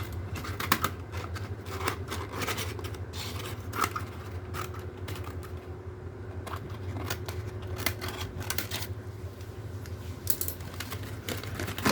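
An Amazon package being cut open for unboxing: a long run of close, crisp snipping and slicing clicks in an irregular rhythm over a steady low hum, with no talking.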